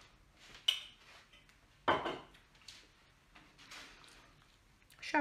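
Walnut filling sweetened with honey is stirred in a bowl for a Romanian walnut cozonac, with a spoon scraping and knocking against the dish in several distinct clinks among softer rustling stirs.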